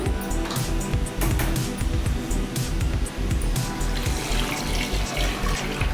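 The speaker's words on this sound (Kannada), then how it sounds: "ನೀರು ಹಾಕೋತಾ ಇದ್ದೀನಿ" Water splashes and gurgles continuously into a vessel, a steady close pouring sound with small splashy bursts.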